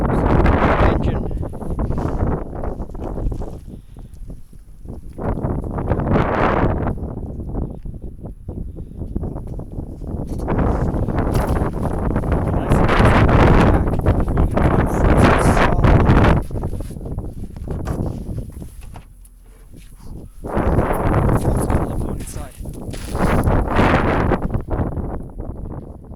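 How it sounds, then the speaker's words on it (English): Strong gusting wind roars and buffets the microphone outdoors beside a parked aircraft, surging and easing in long waves over nearly half a minute, loud and close with no voices. "the wind is blowing like you would not believe"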